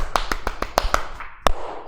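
A few sharp, irregular claps in a classroom, close and fairly loud, in quick succession with a short gap before a final clap.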